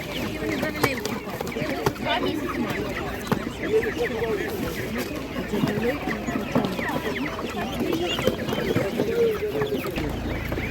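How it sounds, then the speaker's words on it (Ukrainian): Chickens cluck continuously in a busy crowd at an outdoor animal market, with frequent close clucks over a constant background of people talking. "Така гарна курка"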